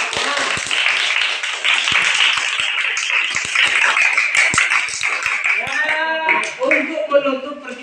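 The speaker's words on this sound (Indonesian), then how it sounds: "Tepuk tangan untuk kalian semua" Classroom students clapping, a dense burst of applause that fills the room, with a teacher's voice speaking over it and fading into talk near the end.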